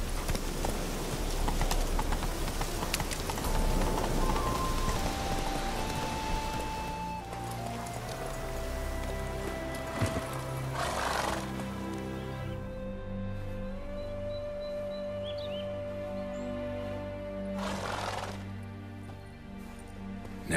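Roach, the horse in The Witcher 3 video game, galloping with rapid hoof clip-clops that are loud at first, then fade under a tonal game music score, with a couple of sharper hits along the way.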